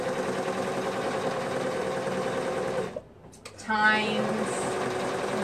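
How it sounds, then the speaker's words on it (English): A sewing machine stitches the short ends of a fabric skirt waistband with a steady, close mechanical whir that stops briefly partway through, and a voice speaks a word as it runs. "with right sides together, I'm going to sew the short ends of the waistband"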